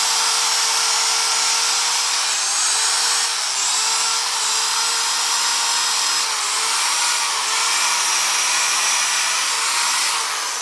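A high-pitched electric drill with a polishing buff whines continuously at steady speed, with a faint rubbing hiss of the buffing pad against a motorcycle surface.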